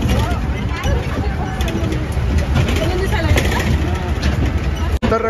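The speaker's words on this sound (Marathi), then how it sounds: "तर ट्रॅक्टरची इथं ऑफ रोडिंग होत आहे" A tractor jolts along a rough, unpaved off-road track, its engine and rattling body a steady broadband rumble throughout, with people chattering over the noise.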